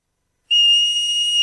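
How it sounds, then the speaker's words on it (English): A woodchuck, or groundhog, gives a sudden shrill whistling call that starts abruptly and holds steady and loud to the end, heard alone. "They're also called whistle pigs because they do this."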